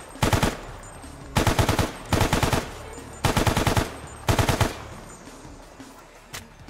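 Automatic gunfire in the game Stalker Anomaly with gun effect mods, five sharp bursts of rapid shots separated by short pauses, followed by one faint single shot.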